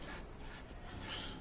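A saw rasps steadily through material in the video game The Way Out, a continuous gritty scraping that stays quiet and close, with no talking over it.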